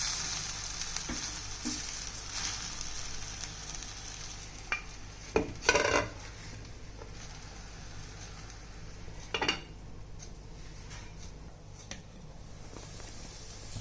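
Sabudana khichdi of tapioca pearls and roasted peanut powder sautéing in a pan: a steady soft sizzle with scattered utensil stirs and scrapes, and a couple of louder clatters partway through.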